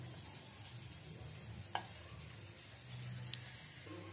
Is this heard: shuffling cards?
no